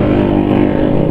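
A carbureted Honda Beat scooter engine, fitted with a Vario 110 pulley, runs steadily after an electric start, giving a loud, even, buzzing hum throughout with no talk.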